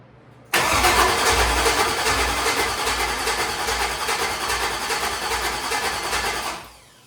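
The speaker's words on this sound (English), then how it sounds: "I think we're about ready to try and fire this for the first time. Crank her over and see what happens." A custom street truck engine cranks and fires for the first time, catching abruptly and settling into a loud, steady, rough-edged running rumble that holds for several seconds before fading.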